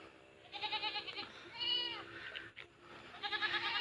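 Hungry farm goats bleating repeatedly at feeding time, several wavering calls close by in quick succession with a brief pause in the middle.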